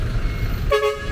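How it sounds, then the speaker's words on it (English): A car horn sounds once in busy Lima street traffic, a short, clear honk standing out partway through over a steady rumble of passing vehicles. "quite surprised, we haven't heard a horn in quite some time."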